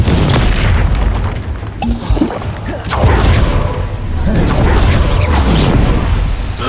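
The Confringo explosion spell in Hogwarts Legacy, bursting as loud, booming blasts that merge into a dense, continuous roar of crashes and whooshes with no pauses.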